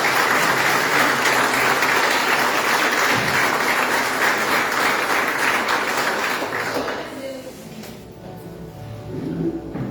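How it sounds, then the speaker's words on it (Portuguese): Sustained applause from a church congregation during a communion service, loud and steady for about seven seconds before fading out into quieter room sound. "Você pode dar uma salva de palmas para Jesus?"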